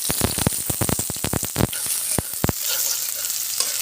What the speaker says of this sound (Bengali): সুন্দর করে রসুনটা ভেজে নিব।